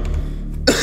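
A single sharp, close cough bursts out near the end of a quiet moment during Danish Minecraft Lucky Block gameplay commentary.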